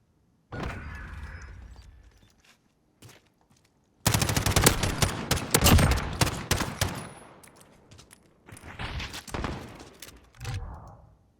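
Rapid bursts of gunfire in a search-and-destroy round of a competitive shooter video game, dense automatic fire with short pauses and a few isolated shots, loud and close with no talk.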